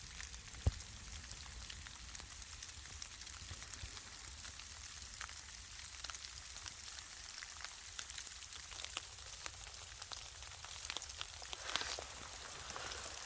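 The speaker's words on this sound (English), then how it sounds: "the rain slash sleet is here" Rain mixed with sleet pattering steadily on a tent in the mountains, with a dense, soft patter and scattered sharper ticks, no one talking.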